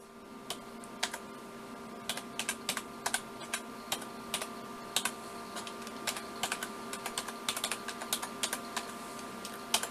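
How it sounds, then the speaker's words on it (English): Steady run of crisp keyboard keystrokes while a long Wi-Fi code is entered during a PC build, close and distinct with brief gaps, no talking. "Let's just key in my code there."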